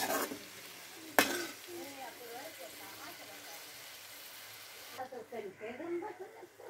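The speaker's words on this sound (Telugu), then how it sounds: "మిగిలిన మసాలా మొత్తం వేసి ఇది బాగా ఫ్రై చేసి ఆయిల్ పైకి వచ్చేంత వరకు ఫ్రై చేయాలి" Masala being fried and stirred with eggplant in a pan, a single sharp metallic clank followed by a low sizzle, with a voice talking over much of it.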